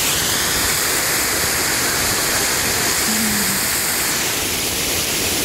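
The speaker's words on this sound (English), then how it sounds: "next to this beautiful water fountain here" Steady, dense splashing of an outdoor water fountain pouring into a basin, continuous and close, with no pauses.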